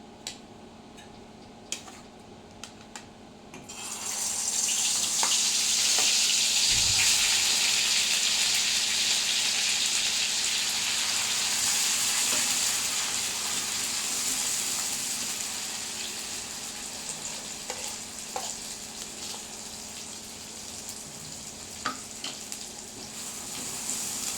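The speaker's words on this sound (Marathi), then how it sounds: "भाजीमध्ये आपण गरम पाणी टाकूया" Hot water goes into a drumstick-pod vegetable curry in hot oil. After a few quiet seconds, a sudden loud sizzle bursts out, then slowly eases into a steady hiss with scattered small crackles and ticks.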